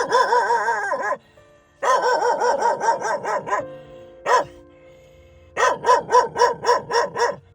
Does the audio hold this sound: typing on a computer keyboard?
no